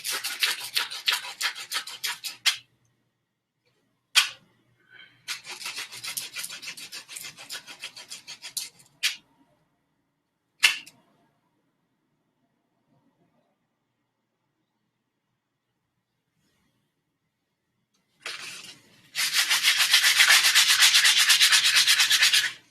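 A wooden wand handle is hand-sanded with sandpaper in bursts of close, dry rasping strokes broken by silent pauses, ending in a long, continuous scrubbing run.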